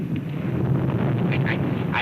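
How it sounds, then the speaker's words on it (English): Thunder rolls as a continuous deep rumble for about two seconds, steady and close, with faint higher whooshing traces near the end and no talk over it. "but that noise you just heard with the thunder"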